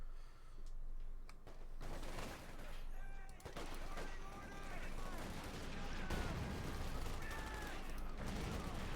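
Rapid gunfire and explosions from a Company of Heroes 2 battle between OKW and US forces, with machine guns cutting down gun crews; dense, continuous bursts and booms fill the mix, with game voice callouts overlapping.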